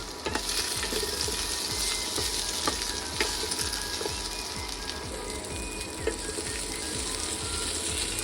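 Potatoes fry in a pan with a steady crackling sizzle and scattered pops and spatters, close and continuous throughout, with no voices.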